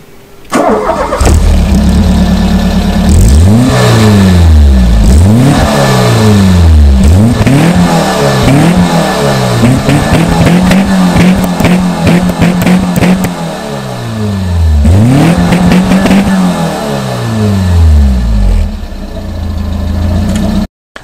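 A 1986-era Peugeot 205 GTI with a 1.6-litre, 105-horsepower four-cylinder starts and is blipped repeatedly. The rev sweeps climb and fall in quick succession, then hold near idle before more sharp revving, all loud and close.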